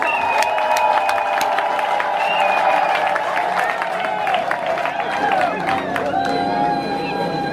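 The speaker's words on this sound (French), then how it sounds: "Applaudissons." A crowd at a village ceremony in Cameroon applauds and cheers the return of a king, with dense clapping, shouts and high sustained voices or ululation running loud and continuous throughout.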